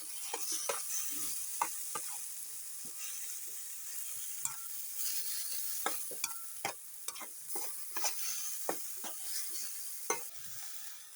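Tomatoes and garlic with avocado and egg stirred in a pan for an Ethiopian dish, a soft steady sizzle broken by repeated sharp scrapes and taps of the utensil, close and without talk.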